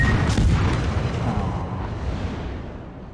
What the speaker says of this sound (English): Torpedoes direct front.